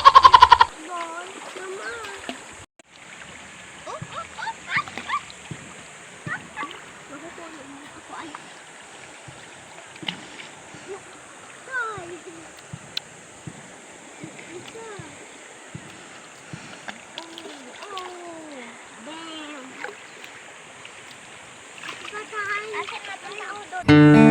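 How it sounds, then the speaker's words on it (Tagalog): Splashing water from people bathing in a river, intermittent light splashes and stream flow heard throughout, with voices chattering over the outdoor water sounds. "Tara, maligo tayo sa ilog."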